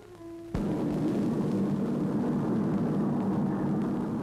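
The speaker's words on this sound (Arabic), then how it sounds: "إنها طائرات تقتل بالنابالم." Military warplanes used for napalm attacks on forests roar overhead: a steady, loud, broadband rumble that swells in abruptly after a brief quieter opening and holds without break.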